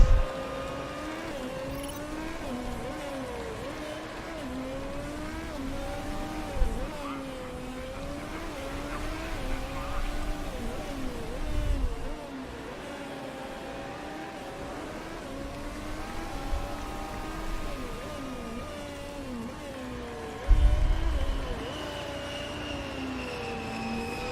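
F1 race cars circling a track in the Motorsport Manager racing game, a steady high engine whine rising and falling as cars pass, with a few louder low rumbles as cars come close, no voices.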